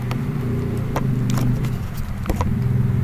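Motorbikes passing outside: a continuous, fairly loud engine drone with low rumbling tones, joined by short clicks and rattles scattered across it.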